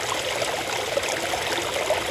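White, stale, polluted water pours into the Roganka stream in a steady, continuous rush and trickle, close and moderately loud, with no voices.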